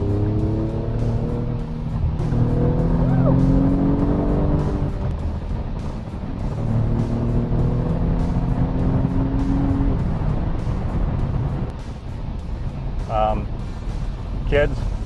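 A 2017 Alfa Romeo Giulia Quadrifoglio accelerates on a snowy highway, its loud engine rising through the gears in rising and falling tones. A driver talks over it.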